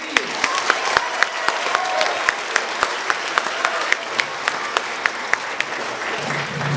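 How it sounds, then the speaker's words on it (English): A school audience claps for a 6th grade band at a winter concert, a steady wash of applause with crisp individual claps standing out, sustained and fairly close throughout. "Will you give another round of applause, please?"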